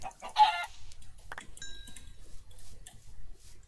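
Chickens clucking in the video game Minecraft, a few short clucks and chirps heard near and fairly faint over a low background rumble, with no talking.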